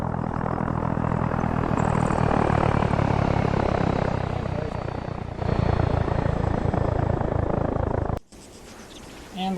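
A plane flies in Arma 3 during a cargo and parachute drop, its engine drone loud and steady with a propeller-like throb for about eight seconds before cutting off abruptly, followed by quieter sound.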